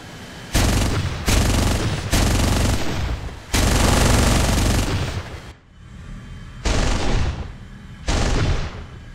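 Rapid aircraft machine-gun fire in War Thunder, in six loud, sharp bursts separated by short pauses, the longest stretch lasting nearly two seconds.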